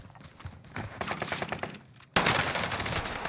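Gunfire in a Call of Duty battle royale match on Rebirth Island, rapid automatic bursts crackling loudly, pausing briefly, then resuming as a dense, louder volley.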